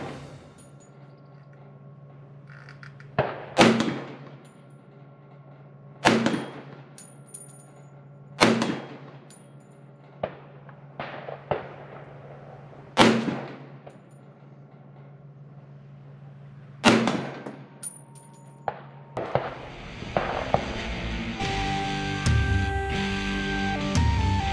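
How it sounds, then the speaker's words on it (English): M1 Garand rifle firing at a range: six sharp, loud shots spaced a few seconds apart over a steady low hum, with a brighter clattering noise at the end. "You load your first clip and start to shoot."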